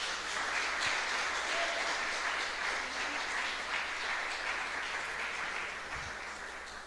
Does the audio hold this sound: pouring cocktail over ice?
no